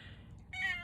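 A house cat lets out a short, bright meow at the end of a brief moment, close by and fairly loud over a quiet room background.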